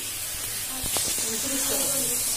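Meat cooks in a home kitchen, a steady sizzling hiss that continues throughout while a voice briefly speaks over it.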